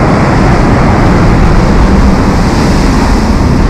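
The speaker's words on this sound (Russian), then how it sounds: "Вот хорошая идет волна." Stormy sea waves crashing onto a pebble beach at Lazarevskoye, Sochi, a loud continuous roar of surf mixed with heavy wind buffeting the microphone, filling the whole stretch without pause.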